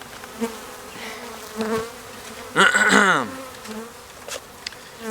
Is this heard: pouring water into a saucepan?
no